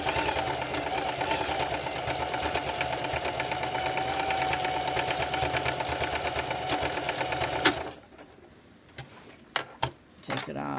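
Sewing machine running a steady straight stitch along purse straps, a continuous rapid mechanical whir lasting several seconds before it stops abruptly, followed by quieter handling clicks and taps.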